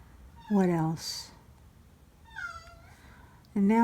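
Domestic cat Gizmo meows insistently, crying to be fed, with two loud drawn-out meows and a softer one between them, close to the listener.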